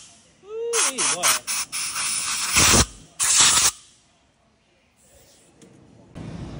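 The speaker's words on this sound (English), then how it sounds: "just take one bolt out, the old trusty air compressor, and put it in there" Air compressor nozzle blowing into a bolt hole on a 2000 Peterbilt 379 with low air leaf suspension, giving several sharp, loud hissing bursts of compressed air up close, with a few squeaks at the start.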